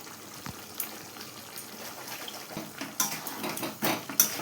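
Chicken pieces coated in turmeric, salt and chili powder are stirred in a pan, with scattered light scraping and clinking of a utensil against metal, close and moderately quiet.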